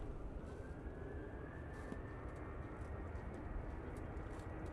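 An airplane coming in to land at Manchester Airport, a continuous, moderately distant jet engine roar with a faint rising whine, steady throughout with no talk.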